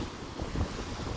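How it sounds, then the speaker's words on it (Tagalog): Strong wind buffets the microphone at a dolomite beach on Manila Bay, with waves rolling and surging underneath in a loud, steady roar. "ang alon o ang hangin ay talagang malakas dito sa may"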